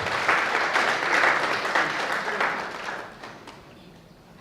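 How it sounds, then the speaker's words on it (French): A large audience applauds at the official launch of an accountants' club in Senegal, a dense, steady wash of clapping that thins and fades near the end. "Maximum d'applaudissements pour Pape Omar Khouma."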